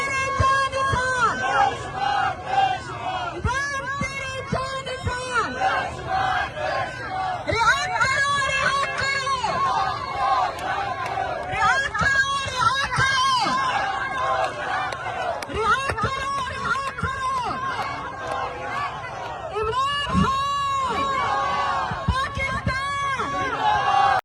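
Large crowd chanting slogans at a Pakistan Tehreek-e-Insaf political rally procession, with a woman leader leading the chants; dense, continuous roar of massed voices with rhythmic shouted calls throughout.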